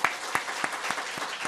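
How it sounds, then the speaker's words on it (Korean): A church congregation applauds the teachers with steady clapping and a few louder, evenly spaced claps standing out, at moderate volume throughout the short burst. "우리 격려 한번 박수로 보내주시죠."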